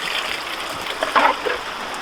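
Water is poured over a gold sluice, a soft steady trickle and splash with a brief louder gush midway, close by and without talk.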